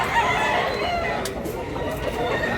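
A rooster crows loudly and close by, one sustained call filling the moment, with rough background noise around it.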